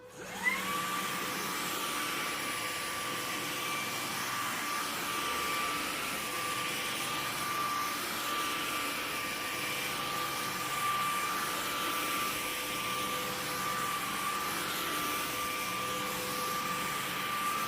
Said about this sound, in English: Okay, so I'm going to turn the vacuum on.